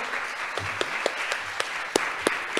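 Audience applause for the laureate at the Veolia Foundation environmental book prize ceremony, a steady patter of many hands with a few sharper individual claps standing out, moderately distant and even throughout.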